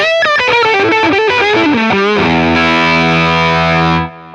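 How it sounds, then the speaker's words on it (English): An electric guitar through a Line 6 Catalyst 100 amp on a gritty boutique channel plays a fast distorted run, then a ringing chord held and cut off, loud and close with no talking. "So that's my A channel sound, my kind of gritty boutique sound"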